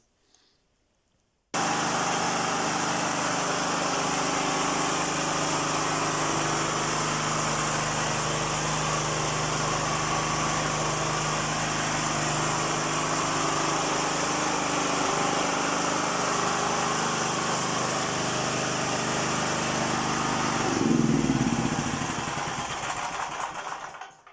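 A Hyundai HG-5500 petrol generator engine, just repaired with valves adjusted and a new spark plug fitted, starts and runs at a steady, loud, even drone for about twenty seconds, swelling briefly near the end, with no talking.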